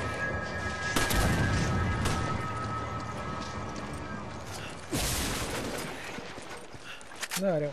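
Gunfire in the Resident Evil 5 co-op video game, loud shot bursts around the first second and again near five seconds over continuous game noise.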